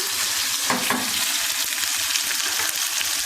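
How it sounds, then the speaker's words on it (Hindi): Onion and bell pepper fry in a pan with a loud, continuous sizzle and crackle, broken by irregular scraping stirs, close up and with no talking. "अब ये शिमला मिर्ची भी डाल देते हैं, तो ये भी थोड़ा इसके अंदर भून जाएगी"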